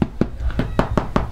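Knuckles knocking on a freshly baked homemade loaf from a countryside oven, about seven hollow dull thumps in an even rhythm, close, with no voices.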